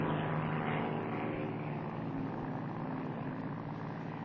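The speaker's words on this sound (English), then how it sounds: "Another kind of profiling is being done from an airplane by Bill Richardson." A propeller airplane flies low over the ocean while dropping probes to measure currents. Its engine drone is loud and steady throughout, with no voices.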